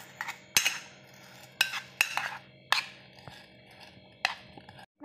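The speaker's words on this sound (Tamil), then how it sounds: "இது எல்லாத்தையும் நல்லா மிக்ஸ் பண்ணிக்கோங்க" Spoon scraping and clinking in a bowl while a spicy masala filling with green chilli and chilli powder is mixed for sandwiches, sharp close knocks recurring every second or so over a quiet background.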